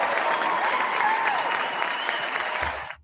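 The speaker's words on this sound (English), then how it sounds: "Give yourself a round of applause." Audience applause, a continuous even burst of many hands clapping at steady volume that cuts off abruptly near the end.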